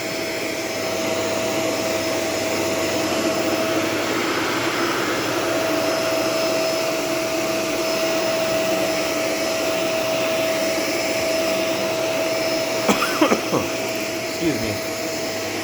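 A Shark Rotator Professional swivel vacuum cleaner runs continuously with a steady, loud whirring drone and a constant motor whine, and a person says a few brief words near the end.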